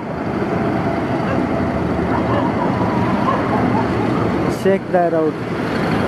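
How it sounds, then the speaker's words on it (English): A blue railway engine, out for servicing or testing, rolls past behind the listener as a steady broad rumble that fills the whole stretch, with a short bit of talk near the end. "do you see the blue engine that's going right behind?"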